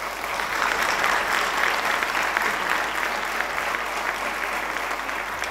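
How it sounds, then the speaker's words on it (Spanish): Sustained applause from an audience at a flamenco awards ceremony in Alcobendas, 2017, honouring a young prize winner; dense, even clapping runs steadily and loudly throughout, with no voices standing out. "Un aplauso para Pepe"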